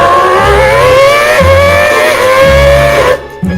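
A V10 Formula One car engine revs hard and high, its whine rising and falling continuously, imitated by a human voice rather than a real engine, loud and steady with no talk over it.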